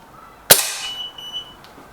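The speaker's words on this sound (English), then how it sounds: "First shot." A single sharp crack from a Lee Enfield Sentry air rifle, close and loud, with a short ringing decay and faint tones afterward.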